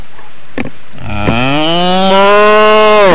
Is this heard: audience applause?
no